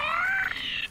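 A single drawn-out cat meow, rising then falling, close and clear against quiet background.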